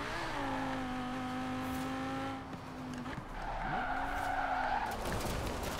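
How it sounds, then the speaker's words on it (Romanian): Tires of a 2018 BMW M5 squeal and skid through a long drift in Forza Horizon 4, the engine droning underneath at steady revs, then dipping and rising again as the slide continues. "În momentul care intră în drift, pleacă singur spatele aproape"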